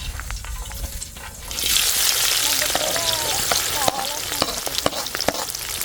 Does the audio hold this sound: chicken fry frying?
yes